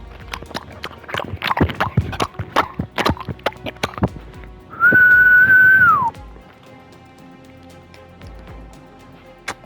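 A person tries to whistle: several seconds of breathy puffs and clicks, then one sustained, slightly wavering whistled tone that slides down at the end, followed by quiet.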